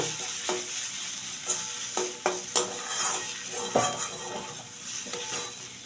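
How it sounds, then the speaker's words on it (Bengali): Grated radish cooks with a pinch of garam masala in a pan, giving a continuous hissing sizzle broken by frequent spatula scrapes and clinks, close and fairly loud with no talking. "আর একটু ভাজবো গরম মশলা দিয়ে নিলাম অল্প"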